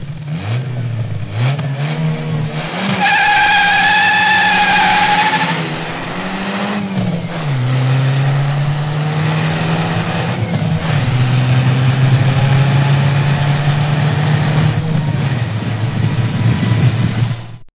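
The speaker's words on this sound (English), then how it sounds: "Don't you dare start that car!" A white four-door sedan starts and revs hard, loud and close, with the engine note climbing, dropping and climbing again before settling into a steady, high-pitched roar that holds to the end, all in a cartoon setting.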